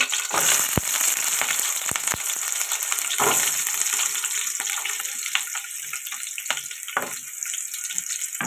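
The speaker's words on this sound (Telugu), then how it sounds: "కరివేపాకు, ఇప్పుడు ఇది ఫ్రై చేసుకోవాలండి." Green chillies, chopped onions and curry leaves frying in hot oil for an eggplant curry, giving a steady close crackling sizzle throughout with a few sharp pops and clinks.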